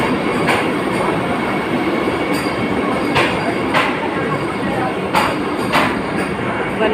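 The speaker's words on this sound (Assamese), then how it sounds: "4:30 বন্দে ভাৰত ট্ৰেইন গৈ আছে" A Vande Bharat train passes at speed, a loud, steady rumbling roar with rhythmic clacking as the wheels cross rail joints, continuous throughout and heard close by.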